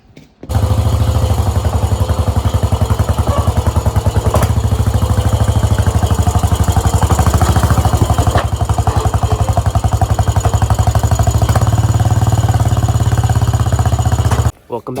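A 1986 Yamaha Big Bear ATV engine runs continuously, loud and close, with a steady rapid chugging putter and a rough, uneven note from a carburetor needing adjustment, cutting off abruptly near the end.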